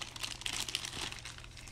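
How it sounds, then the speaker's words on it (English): A knife is pulled from a plastic bag, giving close, continuous crinkling and rustling of plastic for under two seconds, with no talking. "We'll just take it out of the plastic bag."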